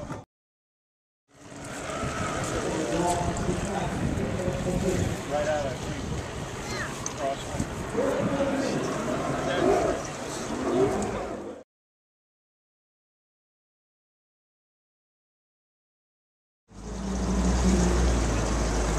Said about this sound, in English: we're leaving in the release boat, take the fish out